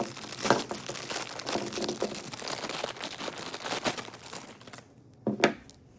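A plastic blind box bag for a Godzilla figure is torn open and handled, giving a continuous close crinkling and ripping that tapers off, followed by a couple of final crinkles.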